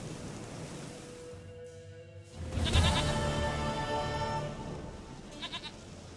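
A goat in The Witcher 3: Wild Hunt gives one sustained, wavering bleat at close range over a steady wash of outdoor ambience, followed by a short trailing tail.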